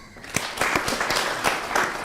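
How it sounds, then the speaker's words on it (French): Audience on a TV talk show applauding a stylist guest, with distinct sharp claps in an irregular rhythm over a soft, steady bed of clapping, fairly close and moderate in level. "On l'applaudit."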